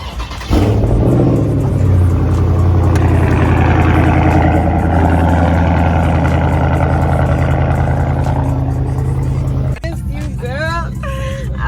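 A car engine runs steadily close by, a loud low rumble that holds for most of the stretch before dropping away near the end, with people talking over it.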